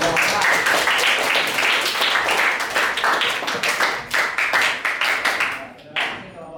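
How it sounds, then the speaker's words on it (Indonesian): A classroom group at a teacher-training performance test gets a round of clapping from the room, loud and dense at first, then thinning into scattered individual claps before fading out near the end. "Tepuk tangan untuk kelompok Pak"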